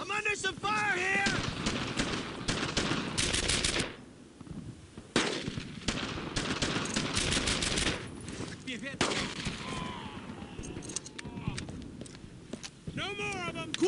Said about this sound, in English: Taking fire! Covering fire! Firing!